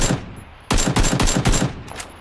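A gun fires in PlayerUnknown's Battlegrounds, with a rapid, loud close-range burst of about half a dozen shots followed by a brief pause and a couple more cracks.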